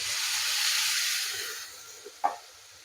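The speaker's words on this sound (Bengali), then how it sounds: "অল্প পরিমাণে একটু জল দেব" Water poured into a hot pan of potatoes gives a broad, steady hiss that swells then fades over a couple of seconds, ending with a couple of short sharp pops and spits.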